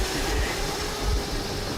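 A train rolls along the rails with a steady, dense rumble and hiss, a continuous heavy running noise that stays loud and even throughout, with no voices.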